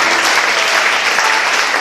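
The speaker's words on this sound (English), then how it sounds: "Clap for Master Jesus." A crowd claps loudly and continuously, a dense burst of applause filling the whole moment.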